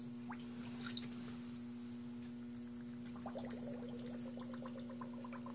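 Alpaca fleece soaks in a basin of water, with faint close drips, squishes and gentle sloshing over a steady low electrical hum, growing busier toward the end.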